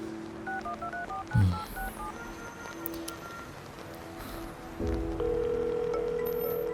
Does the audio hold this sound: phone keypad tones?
yes